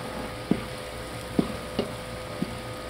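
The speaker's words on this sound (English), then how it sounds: "my oil is still boiling on the other pan" Hot oil bubbles in a pan with a continuous low sizzle, broken by a few faint ticks and pops spaced unevenly.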